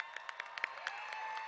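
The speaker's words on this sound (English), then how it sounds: "Please give them a round of applause" Crowd applause at the March For Our Lives gun violence prevention rally in Washington D.C., a faint, distant wash of many hands clapping steadily, with a few sharper claps standing out.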